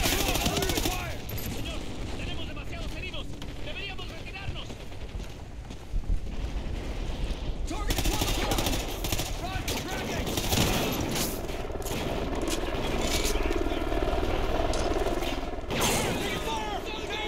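Sustained automatic gunfire laying down suppressing fire in a realistic military video game set in a ruined future Los Angeles, dense and continuous bursts with shouted voices mixed in throughout.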